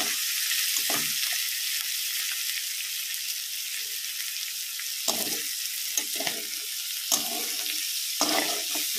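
Round bitter gourd slices fry in a pan at home, a constant close hiss of sizzling oil punctuated by several short clattering stirs and scrapes.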